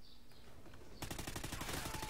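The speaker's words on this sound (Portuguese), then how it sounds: "Nossa, trocentos tiros" Rapid automatic gunfire in the video game Call of Duty Ghosts multiplayer, a dense burst of closely spaced shots starting abruptly about midway and continuing loud to the end over faint background.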